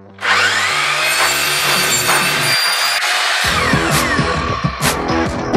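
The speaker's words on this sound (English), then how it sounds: "After cutting all of the pole wrap that I would need" A power saw cutting decorative fluted pole wrap for a furniture makeover, a loud continuous close-up cut that changes pitch midway and ends with a few clattering knocks.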